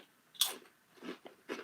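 Crisp bites and chewing of maple and black garlic Dutch Crunch potato chips: one sharp close crunch followed by two softer chewing bursts, with no talking.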